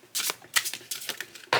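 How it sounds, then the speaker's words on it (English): A deck of oracle cards is shuffled by hand, close up, in a few quick bursts of crisp papery riffling separated by short pauses, with no voices. "I'll shuffle the cards"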